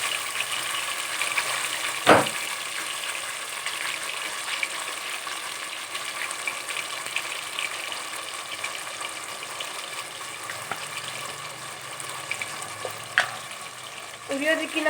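Paste of onion, garlic, ginger and coriander frying in oil, a steady soft sizzle throughout with a few sharp clatters of a spoon against the pan.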